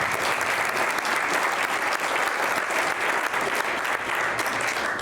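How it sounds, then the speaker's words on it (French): Steady, full applause from an audience at a university presentation on physical education studies, dense even clapping continuing without a break, with voices faintly mixed in. "Voilà, on peut les applaudir."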